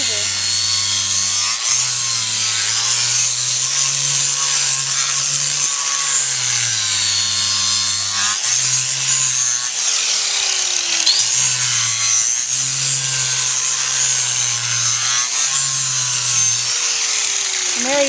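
Power grinder trimming and bevelling a horse's hoof wall, a steady loud high whine with a grinding rasp that rises and falls as the angle changes; a voice talks over it at times.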